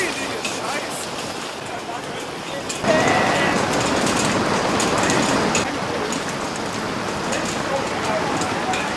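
Heavy rain mixed with hail pouring down at an outdoor rock festival, a dense continuous hiss and patter that swells louder partway through, with a voice briefly heard.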